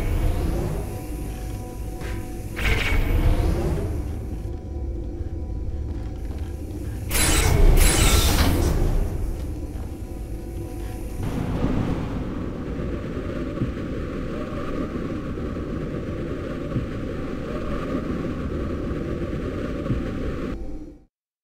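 Vacuum delivery system machinery in the Aperture Tag video game: loud rumbling and creaking mechanical movement with whooshing surges, then a steady droning hum until an abrupt cutoff, no voices.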